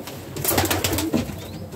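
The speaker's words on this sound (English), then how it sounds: "So I thought today I'll just give you a little tour of the pigeon shed." Pigeons coo softly and steadily inside a pigeon shed where a mother bird is nesting with young, several throaty calls overlapping close by, with faint shuffling and a thin high squeak near the end.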